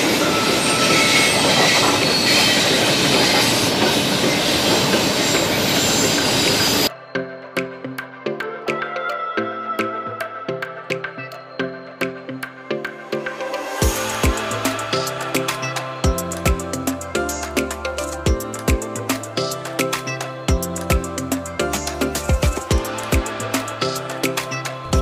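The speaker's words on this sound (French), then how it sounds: "le train qui passe dans les rocheuses" A train rolls past close by in the Canadian Rockies, wheels clattering in a steady rhythm with occasional squeals, after a loud rushing roar at the start.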